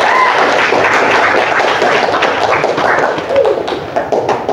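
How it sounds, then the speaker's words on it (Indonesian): Sustained applause from a group honoring debaters in a classroom session, dense and loud clapping throughout with no break. "Bisa diberikan tepuk tangan untuk kelompok yang sudah debat"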